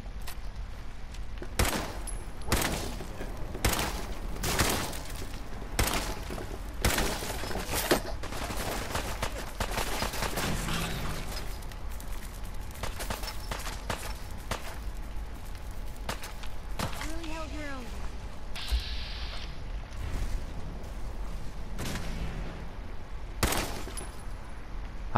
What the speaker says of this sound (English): I thought they were shooting at me, like, what the fuck, guys?